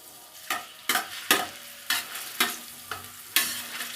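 Garlic and ginger browning in a pan for desi chicken yakhni, quiet sizzling punctuated by seven or so crisp, rhythmic spatula scrapes and taps against the pan.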